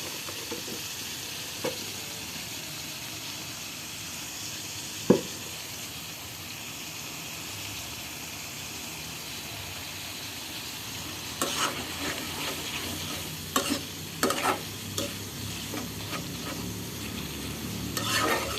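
Food sizzles steadily in hot oil while a utensil stirs and scrapes the pan, with a few sharp knocks and a busier burst of stirring near the end, close and without talk.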